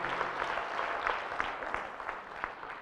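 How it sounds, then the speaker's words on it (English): Modest, fairly faint applause from a forum audience in a conference hall, a soft continuous patter of clapping with a few distinct claps standing out, gradually easing off. "Another round of applause,"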